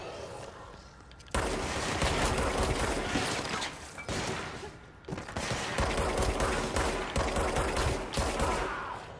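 Sustained bursts of rapid gunfire in the video game Control, loud and dense, with brief lulls between long volleys of shots.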